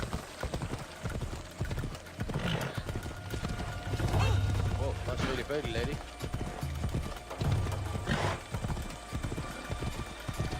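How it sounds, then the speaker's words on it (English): Horse hooves clip-clop in a rhythmic gallop in the video game Assassin's Creed Odyssey, steady and close, with characters talking over the hoofbeats. "Not very realistic horse,"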